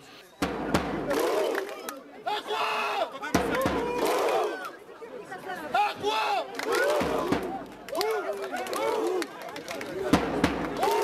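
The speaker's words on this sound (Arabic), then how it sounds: "انضم الآلاف من المتظاهرين إلى الهتافات وخلقوا جواً جديداً في النضال" A large crowd of protesters at a street march chants and cheers in football-fan style, with loud rhythmic massed voices rising and falling, and a few sharp bangs mixed in.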